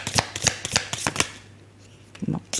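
Tarot cards are shuffled and drawn by hand in a run of quick, crisp riffling bursts, then a short quiet gap and a few softer flicks near the end, close by, with a voice speaking around them.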